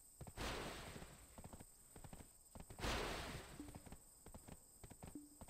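Horse hooves clip-clop in Black Desert Online, a quick rhythmic trot of footfalls at moderate volume, with a couple of brief rises in galloping intensity and short tonal game cues between steps.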